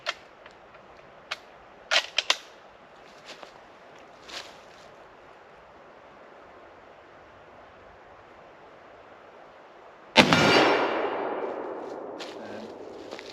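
A No.4 Mk1 Lee Enfield .303 rifle fires a single sharp, loud shot that rings out and decays over a few seconds, preceded by a few faint clicks of handling.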